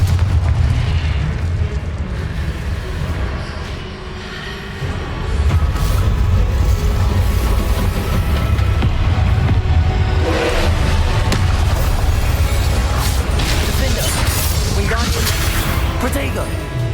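Repeated Confringo fire-spell blasts booming out of a Hogwarts Legacy battle, with deep heavy rumbles stacked over continuous combat noise and dense low-end impacts throughout.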